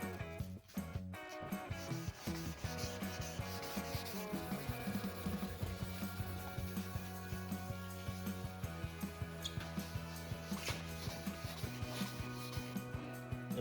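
Headlight lens being wet-sanded with 4000 grit sandpaper, a steady soft rubbing rasp repeating evenly throughout over a background hum, with no talking.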